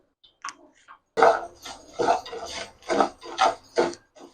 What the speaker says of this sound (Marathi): आता पॅन तापलेला आता हे तांदूळ थोडेसे भाजून घेऊया आपण